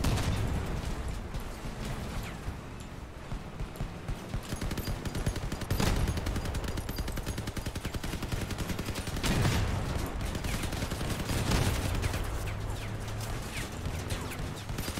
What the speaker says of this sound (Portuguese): Estão atirando em mim aqui atrás